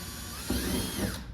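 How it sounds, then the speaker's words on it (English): A drill boring bolt holes through metal to mount a block heater on a 2015 Ram 3500, a steady close whirring grind with a brief louder burst of cutting partway through. "go ahead and drill them out"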